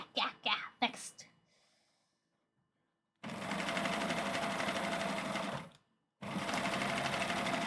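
Sewing machine backstitching through fabric on a chicken kigurumi onesie, two loud sustained runs of stitching separated by a short pause, after a few brief breathy vocal sounds at the start.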